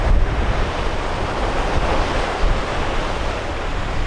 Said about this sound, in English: Ah, this is actually a sand beach.